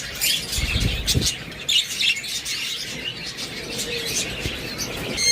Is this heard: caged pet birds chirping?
yes